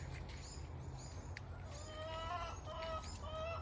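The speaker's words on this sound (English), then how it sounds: "You hear my chickens." Chickens clucking and calling at moderate distance in a garden in June, over a constant low rumble, growing a little busier toward the end.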